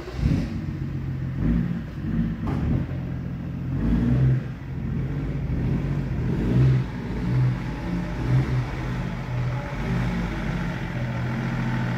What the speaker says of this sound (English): I'll pull my car in now, take the seat out.